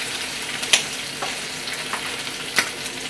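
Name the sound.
eggs frying in a pan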